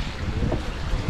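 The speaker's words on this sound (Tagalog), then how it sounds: "habang nagpaparamdam ang hangin ng bagyong Goring" Strong wind from Typhoon Goring roars steadily in the mountains of Dilasag, Aurora with a dense, gusty rush, loud and close, with no voices.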